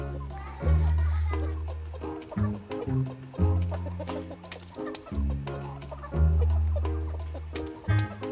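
Chickens cluck and squawk while being fed plant scraps pulled from a home vegetable garden, repeated close clucks in uneven bursts, with people talking over them.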